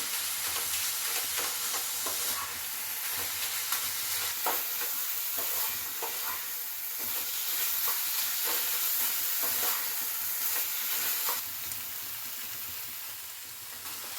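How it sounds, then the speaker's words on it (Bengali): Kheer for gokul pithe stirred in a pan, a soft continuous sizzle with repeated scraping strokes at an irregular rhythm, close and moderately loud. "ক্ষীরটা যতক্ষণ না মেশে একটু নাড়াচাড়া করতে হবে।"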